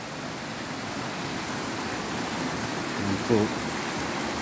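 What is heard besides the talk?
river water flowing on Mt Banahaw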